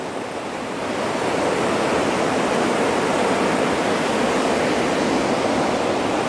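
Steady broadband roar of ocean surf washing onto a beach, continuous and fairly loud with a slight swell in the first second, no voices.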